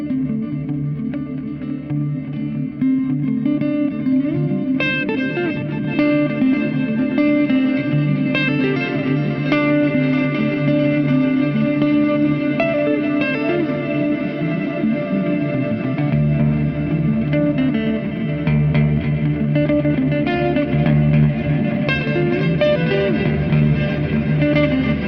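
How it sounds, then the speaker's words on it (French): A guitar plays through a preset on an R1 multi-reverb pedal, with sustained chords and notes washed in long, lush reverb and chorus-like shimmer. The sound is loud and continuous, with no voices. "La R1, vous avez tous les types de reverb possibles."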